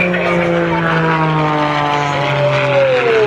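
A propeller airplane flying aerobatics at an airshow gives a loud, continuous droning engine note whose pitch slowly glides and shifts as it maneuvers, steady throughout with no pauses.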